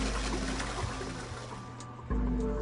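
Toilet flush in Zero Escape 999: a steady rushing, gurgling water noise that runs throughout and shifts near the end.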